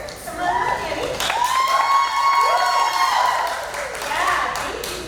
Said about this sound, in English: thank you for all the applause, guys